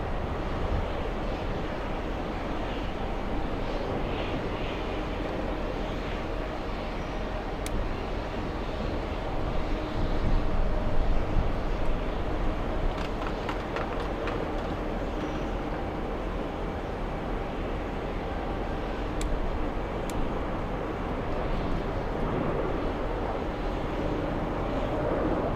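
A Republic Airways Embraer E170 takes off bound for Cleveland, its steady jet rumble and hiss held at a moderate distance under some wind noise for the whole stretch.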